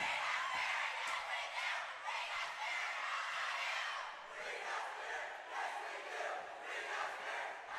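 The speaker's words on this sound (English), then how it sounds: "now we have the classic "We Got Spirit, how about you" cheer between Fox and St. John" Rival school crowds at a high school volleyball match trade a back-and-forth spirit chant, a dense, loud wall of massed young voices shouting in steady rhythm across the gym for several seconds.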